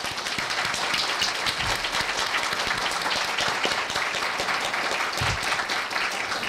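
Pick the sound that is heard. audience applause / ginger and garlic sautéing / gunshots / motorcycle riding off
audience applause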